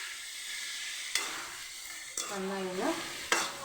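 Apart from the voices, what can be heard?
tomatoes being sautéed in a pan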